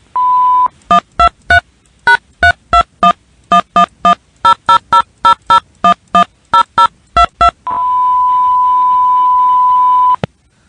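Electronic beeps from a phone line after an answering machine greeting: a long tone, then a rapid string of short, loud, evenly spaced beeps, ending with another long steady tone.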